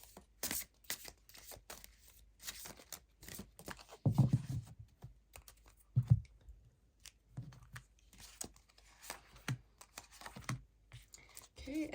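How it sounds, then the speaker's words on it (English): Soft riffling and scratchy card noises repeat close by, a quiet shuffle of an oracle deck with a few louder slaps against a table. "I'm going to first shuffle the Oracle deck"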